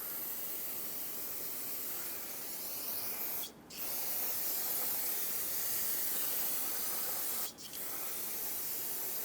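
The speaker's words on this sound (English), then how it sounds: "Rinse it down with brake parts cleaner" Two short, sharp bursts of brake parts cleaner sprayed onto an upper ball joint area of a 2003-2009 Dodge Ram 2500, each a loud hiss over a constant steady background hiss.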